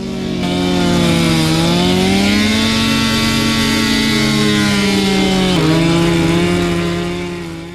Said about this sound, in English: then we're going to saw out a triangle in the ice for us to descend down into